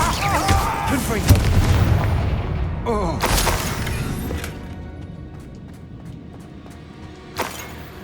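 Confringo blasting spell explosions in Hogwarts Legacy, a sharp boom near the start, another burst mid-clip and a late crack, each with a crackling, debris-like tail over a busy game soundscape.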